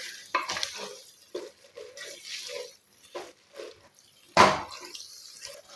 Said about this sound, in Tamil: இப்போ இந்த உப்போடு நல்லா இதை நல்லா கலந்து விடுங்க